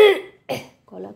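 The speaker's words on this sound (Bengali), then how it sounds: "তো প্রচণ্ড কাশি হচ্ছে" Three harsh coughs from someone with a cold caught after working in cold tank water, each a sharp burst followed by a short pause, close and fairly loud with no talking.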